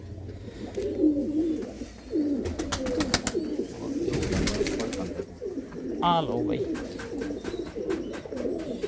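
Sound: pigeons cooing

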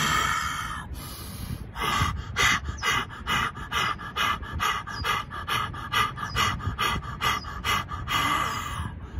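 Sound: heavy breathing exercise for lung cleaning

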